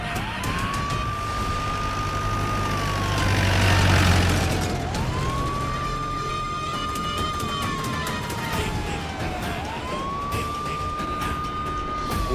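A police siren wails loudly in long rising and falling sweeps, close by and continuous, with faint traffic rumble underneath.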